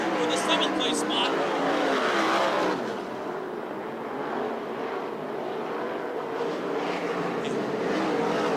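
USAC/CRA sprint cars race on the track at Hanford, California. Engines roar and rev as cars pass close by under a commentator's voice.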